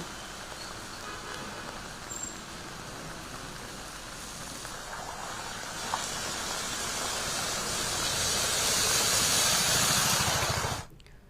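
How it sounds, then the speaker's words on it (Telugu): A heavy monsoon downpour over Hyderabad, a dense, steady roar of rain that swells louder toward the end before cutting off abruptly. "హైదరాబాద్ లో కుండపోత వాన కురిసింది"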